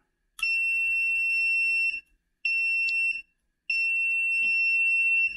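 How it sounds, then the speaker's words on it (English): Kaiweets KC602 current clamp meter continuity test: three clear, steady high-pitched beeps, each a second or two long with short silent gaps, close and loud. "We've heard the thing beep already."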